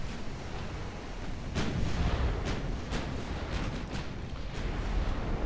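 Naval gunfire in the warship game Ultimate Admirals: Dreadnoughts, with a run of heavy booming shots rolling under a constant rumble of battle.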